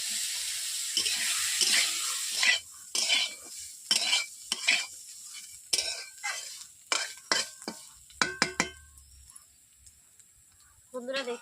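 Steamed kohlrabi fries in a wok with a steady sizzle, and a utensil stirs and scrapes it in repeated bursts while someone talks nearby.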